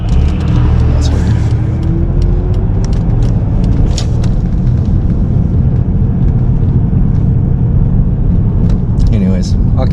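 A Subaru SVX fitted with a swapped-in 1996 Legacy Outback transmission and rear differential drives along, its engine and road noise forming a steady, loud rumble throughout.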